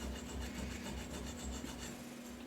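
Coarse hand file rasping a burr off a machined thread on a parted-off part, quick repeated back-and-forth strokes with a gritty scraping texture, close and fairly quiet, alone with no talk.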